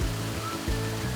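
Water from the 9 m Jangsan waterfall crashes onto the pool surface, a dense, steady rushing roar with low rumbling surges, heard close and continuous.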